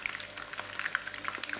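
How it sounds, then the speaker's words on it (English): Chicken pieces coated in a belacan batter deep frying in hot oil, giving a steady, fairly quiet crackle and bubbling hiss with scattered sharp pops throughout. "And now this is the first batch of chicken going in,"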